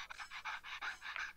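A person pants heavily in fast, rhythmic breathy huffs, about eight quick breaths in a row, close to the microphone and with no talking over it.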